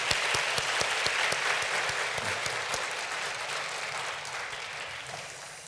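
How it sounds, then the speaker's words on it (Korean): A church congregation claps for its choir on Easter morning, starting with a few sharp, distinct claps that blend into steady applause and slowly fade. "우리 하나님께 감사하고 우리 성가대 격려하는 박수 한번 드릴까요?"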